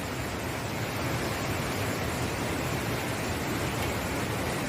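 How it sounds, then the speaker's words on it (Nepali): A waterfall along a mountain trekking route, steady broadband rushing and roaring water that stays loud and unbroken from start to finish, with no voices. "यस्तो झरना छ"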